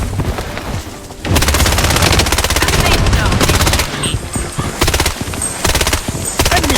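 Rapid automatic gunfire in a shooting video game, loud and close, breaking into dense sustained bursts after a brief quieter opening, with short pauses between volleys.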